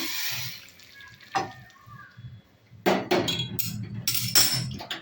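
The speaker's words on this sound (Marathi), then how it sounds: "गरम पाणी ओतायचं" Hot water is poured into a pan of cashew and prawn masala, coming in two short splashing bursts with light clinks of metal in between, close and moderately loud.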